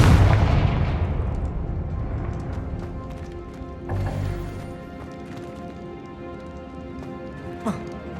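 Blasting spell detonations in Hogwarts Legacy on PS5, a loud dense burst opening into a long rumbling wash, with another thud near the middle and a sharp crack toward the end.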